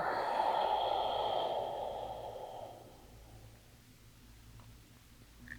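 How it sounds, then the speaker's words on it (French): During a slow stretching routine, a long, soft breath is pushed out through the nose and mouth, a close, airy exhale that fades into near silence. "Ça inspire et ça expire."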